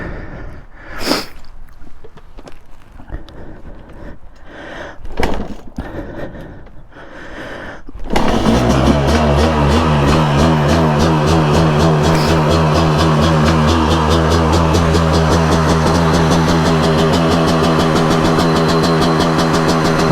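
A KTM two-stroke dirt bike is kicked over a few times with sharp clunks, then fires and settles into a loud, steady, buzzy idle that keeps running close by.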